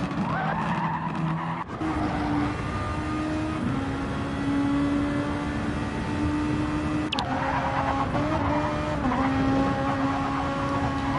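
Race car engine in Grand Prix Legends holding a steady high drone, with tires skidding and squealing as the loose rear end slides, plus a sharp break in the engine note partway through.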